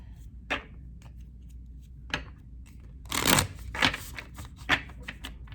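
Tarot cards being shuffled in short bursts, a few quick riffles and soft taps in a quiet room, close and crisp.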